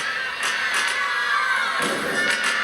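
Arena crowd at a women's college gymnastics meet, George Washington vs North Carolina, cheering and shouting during a floor routine, with rhythmic claps and thuds rising in bursts.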